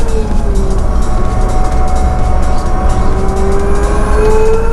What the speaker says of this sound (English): Starting to get on the throttle a little bit earlier, it's got so much grip.